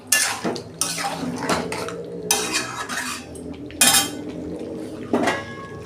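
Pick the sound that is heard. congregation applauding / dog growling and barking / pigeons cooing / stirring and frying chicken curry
stirring and frying chicken curry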